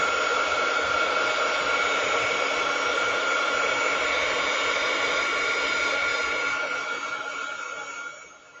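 A hair dryer blows steadily and loudly at close range over chalk paint on a miniature 1950s-style kitchen, a constant airy roar that fades slightly at the very end.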